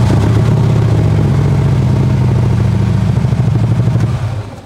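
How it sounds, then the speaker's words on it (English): A Harley-Davidson motorcycle engine running loud and close with a deep, steady rumbling idle, then tapering off toward the end. "turn the key back on, start the bike."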